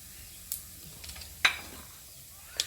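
Fennel seeds and spices frying in oil for a jackfruit chicken curry, with a soft steady sizzle broken by a few sharp stirring scrapes and clinks near the start, middle and end.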